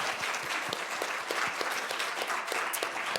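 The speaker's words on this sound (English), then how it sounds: "How about a round of applause for Ethan Baker?" An audience at a civic gathering gives a round of applause for Ethan Baker, with moderately distant, even clapping and occasional sharper hand claps standing out, sustained for a few seconds.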